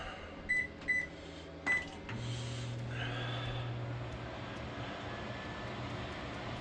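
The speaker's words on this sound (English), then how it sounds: "The microwave is running." A large LG microwave oven starts after a few sharp keypad beeps, then settles into a steady, fairly quiet electrical hum with no talking.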